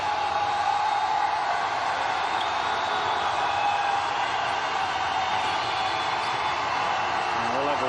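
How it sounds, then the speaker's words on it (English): Artificial crowd noise fills a college basketball game between Hawaii and UCSB, a steady wash of murmur and faint cheering that runs continuously beneath commentators talking. "The artificial crowd noise."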